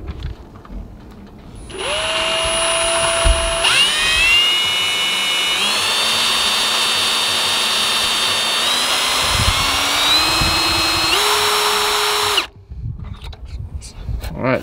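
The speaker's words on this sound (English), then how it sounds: "we are going to put that drill hole right in the middle with the bit" Power drill whirring at high speed while boring a hole into a lawn mower part, its pitch rising in steps as it bores into the material, loud and continuous for about ten seconds before stopping.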